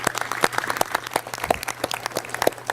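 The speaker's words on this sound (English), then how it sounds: "Can you give them a round of applause, please?" Outdoor crowd at a groundbreaking for the NC Civil War & Reconstruction History Center, applauding city council members with scattered, fairly sparse claps over a low steady hum.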